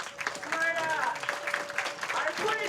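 Audience applause ripples steadily through a professional women's bowling event, a moderate wash of clapping that runs under a commentator's voice throughout.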